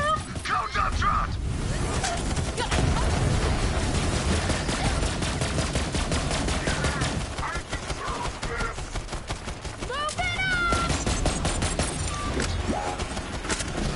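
Rapid gunfire from a gun in Borderlands 3, set in a spooky graveyard fight, rattles in dense bursts almost without pause, mixed with game effects and a steady wash of background sound.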